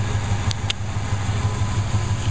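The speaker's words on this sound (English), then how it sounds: "It's a 289 two-barrel motor" A 1965 Ford Falcon with a 289 two-barrel V8 running, a close, steady low rumble with a pulsing idle and two brief clicks early on, no voices.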